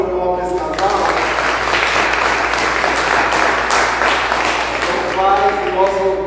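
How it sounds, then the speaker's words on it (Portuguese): A church congregation applauds a couple during a celebration service, a burst of dense clapping between stretches of someone talking. "Vamos dar uma salva de palmas para esse casal."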